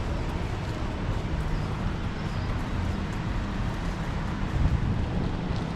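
Cold morning wind blows steadily outdoors near a car parking area on the old Mumbai–Pune highway, a constant rough rumble with buffeting against the microphone and no clear voices.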